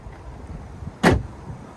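A storage cubby lid in a 2023 Volvo XC40 Recharge shuts with one solid, close thump amid quiet cabin hush.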